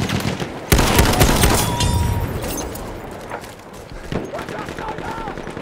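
Battlefield 1 team deathmatch on the Achi Baba map: a sharp loud crack opens, then scattered gunfire and enemy machine gun bursts rattle amid a noisy battlefield backdrop, fading to quieter sporadic shots.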